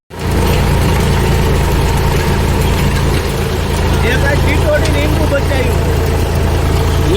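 A loud, steady tractor engine rumbles throughout at close range on a farm, with a constant low drone and faint voices in the background.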